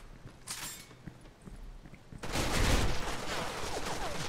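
Bursts of rapid gunfire in the online shooter Special Force 2, with a few faint shots early on before a loud, sustained volley of dense, close firing that carries on to the end, with no talk over it.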